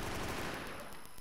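Kürbisknarre gun in Battlefield firing a fast burst of about eight shots, dense and sustained at moderate level with no voices.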